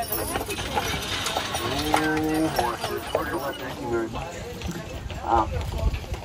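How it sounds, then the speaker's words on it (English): Three-horse carriage on a rough road on Mackinac Island, hooves clip-clopping in an uneven trotting rhythm close by, while someone talks over it. "और अब हमने सेकंड कैरेज ली है 3 हॉर्सेस वाली, क्योंकि आगे की रोड थोड़ी रफ है।"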